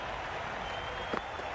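A cricket crowd at a CPL 2022 match applauding a fine batting display, steady broad clapping from a large stadium audience sustained throughout.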